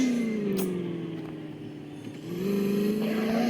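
A Land Rover Defender in the Indian Vehicle Simulator game runs at full throttle, its engine drone dipping slightly and then climbing again, steady and close with no talking.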